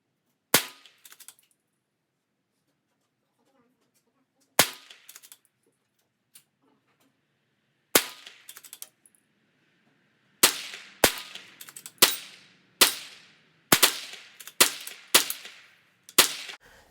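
A Ruger Precision Rimfire .22 rifle fires at a 50-yard range, each sharp crack ringing out alone; shots come sparsely at first, then in a quicker series of about ten evenly spaced shots.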